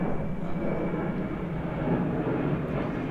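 Airplane flying low overhead near Orlando airport, a continuous broad roaring rumble that stays loud and steady throughout.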